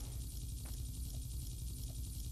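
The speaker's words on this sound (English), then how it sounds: "Can you fly the helicopter somewhere?" Helicopter flying in a Roblox video game gives a low, steady rotor drone with a rhythmic chop, fairly quiet and continuous throughout.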